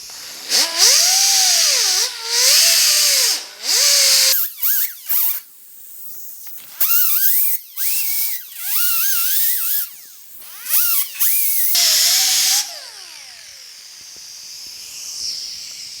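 A disc sander grinds filler on the door jamb of a 1950 Chevy truck, its high whine rising and dipping in repeated on-off bursts before winding down to a faint hiss.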